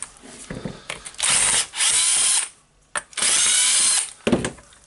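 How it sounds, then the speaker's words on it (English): A power screwdriver whirs in two sustained bursts while unscrewing the two handle screws on a Hitachi DH40MR SDS-max hammer drill, with brief pauses and small handling clicks between. "unscrew the two screws here on the handle"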